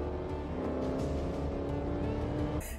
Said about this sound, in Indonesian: ravis Block yang diperankan oleh Liam Neeson memacu mobilnya dengan kencang melalui jalan raya penuh pepohonan di samping kiri dan kanannya.